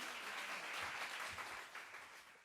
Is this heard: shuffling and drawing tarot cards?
no